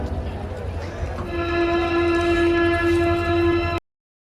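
At Hubli railway station, a loud steady train horn blares for a couple of seconds over busy platform rumble and murmuring voices, then cuts off abruptly.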